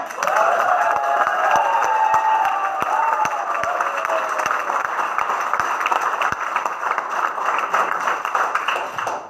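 A meeting audience in Delhi claps in unison to a rhythmic 'diamond' pattern: sharp, evenly spaced claps that speed up into a quick patter, under a crowd's cheering and voices.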